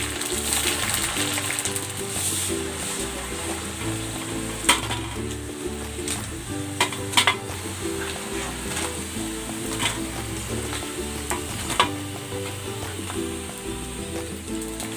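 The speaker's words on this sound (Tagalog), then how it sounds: "Mainit na yung mantika. Magpiprito na ako." Breaded pork fries in hot oil for a restaurant-style sweet and sour dish, a loud continuous close sizzle with occasional sharp pops and clinks of utensils.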